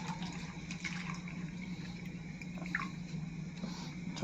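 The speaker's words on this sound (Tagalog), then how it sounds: "At syempre lagyan natin ng tubig." Water poured into a container in a cabin, a steady low splashing trickle that runs unbroken and fairly quiet for about four seconds, with no talk.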